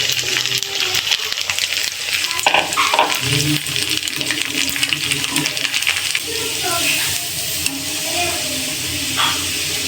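Rice grains frying in boiling hot oil give a steady hiss and sizzle that runs throughout, with occasional louder crackles and some background talk.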